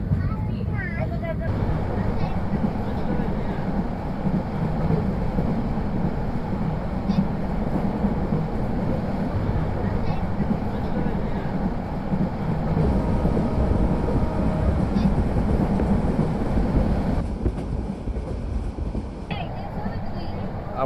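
The Parjatak Express passenger train from Dhaka to Cox's Bazar runs at speed, a steady low rumble and rattle heard from inside the carriage, continuous for the whole stretch with a voice talking over it.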